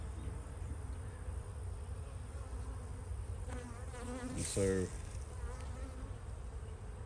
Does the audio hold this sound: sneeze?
no